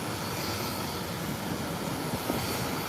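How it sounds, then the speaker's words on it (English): A Cessna Citation jet takes off, its engines a steady, fairly faint broadband roar heard from a distance with no talking. "Hit the like button for this Cessna Citation. Beautiful takeoff."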